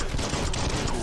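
Gunfire in the video game Biomutant, a dense, continuous burst of shots packed into about a second, loud and close with no voice over it.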